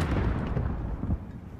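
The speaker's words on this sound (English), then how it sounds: "There's still a mortar out there." Mortar fire in a Modern Warfare video game campaign, a loud, continuous low-frequency rumbling barrage of blasts that fills the clip without a break.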